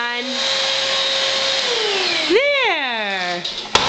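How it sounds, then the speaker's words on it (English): A vacuum cleaner drones steadily and then its pitch sweeps up and down as it is pushed around a living room floor, with voices talking over it. "Did you vacuum up the living room"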